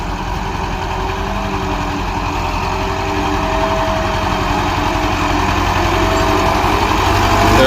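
A tractor stuck in mud runs its engine in a loud, steady, droning idle with a faint rise in intensity toward the end, close and continuous without speech.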